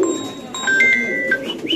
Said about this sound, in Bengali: দর্শক এখানে আছে এক জোড়া ক্যাপাচিনো কবুতর দেখেন আপনারা